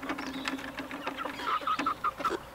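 Chickens on a farm clucking near chicken tractors, a run of short repeated clucks over steady background noise with no talking.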